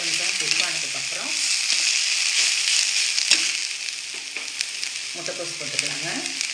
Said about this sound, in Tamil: ஒரு வெஜிடபிளாக போட்டு நம்ம வதக்கிக்கலாம்.